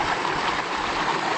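A creek rushes steadily through a steep canyon in Crater Lake National Park, a continuous close broadband wash of flowing water with no break and no voices.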